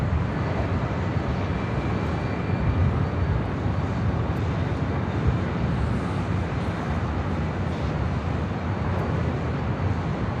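A United airliner rolls for takeoff on runway 24 left at Los Angeles International Airport, a loud, steady jet engine roar that holds throughout without pause.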